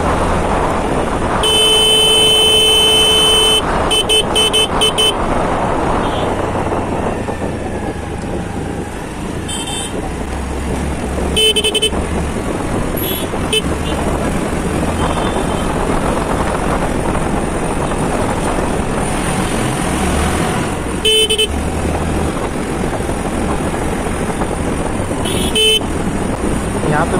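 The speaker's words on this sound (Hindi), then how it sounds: "काफ़ी देर से मैं इसको हॉर्न मार रहा हूँ पीछे से" A rider on a Honda Activa scooter honks repeatedly at a motorcycle in busy road traffic, short horn blasts cutting through loud engine and wind noise, with someone talking throughout.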